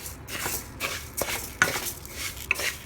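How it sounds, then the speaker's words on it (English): Ingredients for arroz con gandules with beef being mixed in a pot on an unlit stove, with a series of close, rhythmic scraping and clinking strokes. "Now we're just going to just mix that."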